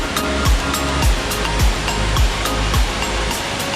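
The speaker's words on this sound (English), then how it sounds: "Welcome to Robinson's Waterfall." Robinson's Waterfall in the jungle of Cameron Highlands, Malaysia, gives a steady, close, full rushing roar of falling water, with faint rhythmic thumps repeating underneath.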